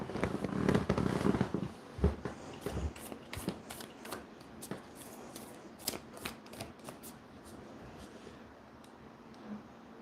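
Moonology oracle cards riffled and shuffled for a tarot reading, a run of crisp close card snaps and flutters, busiest at the start and thinning to scattered taps.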